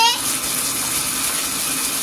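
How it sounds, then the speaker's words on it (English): Water gushes from the tap into a bathtub for a toddler's bath, a steady close rushing splash that runs throughout. "Mama will turn the water on"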